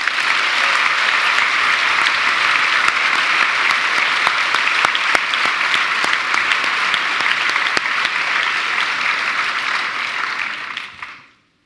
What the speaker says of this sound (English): you'll join me in a round of applause for him